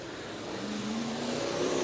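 Stock car race cars circle a dirt speedway at a county fair during a caution lap, their engines a steady, moderately loud drone that swells slightly toward the end.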